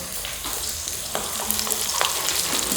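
Hilsa fish frying in hot oil, a dense steady crackling sizzle heard up close, with a few scraping knocks of a spatula against the pan.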